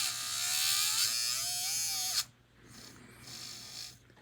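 A small model train electric motor, just cleaned of steel wool shavings drawn into its magnets, whirs with a loud high buzzing whine for about two seconds, then cuts off, leaving faint hiss and low hum.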